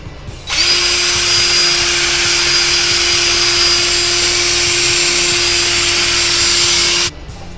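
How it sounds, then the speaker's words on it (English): A power drill fitted for buffing whines at a loud, steady pitch for about six and a half seconds, polishing a guitar's finish with compound, spinning up sharply at the start and stopping cleanly at the end. "I'm going to slow the speed of the drill down on a little bit"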